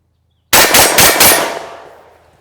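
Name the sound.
TriStar Viper G2 .410 bore shotgun firing four rounds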